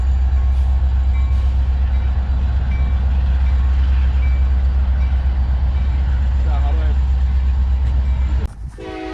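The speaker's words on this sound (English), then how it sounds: "we see a train coupling to its cars for its journey" A heavy, steady rumble of a train idling in a rail yard as it couples to its cars, with faint metallic clanks, ending in a brief sharp bang.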